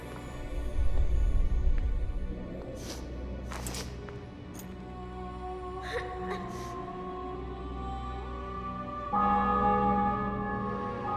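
Church bells toll in The Witcher 2 video game, ringing out in slow, resonant tones that build toward the end amid a murmuring background of ambient sound.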